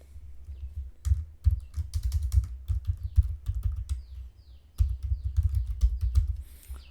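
Quick bursts of keystrokes clatter on a computer keyboard as a range name is entered in an Excel dialog, close and dry, with a short pause midway before another flurry of typing.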